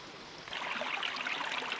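Steady broadband rush of stream water where two mountain creeks join on a trail down to Jungwon Valley near Dobongsan in Yangpyeong, starting softer then swelling to a constant close flow for the rest of the moment.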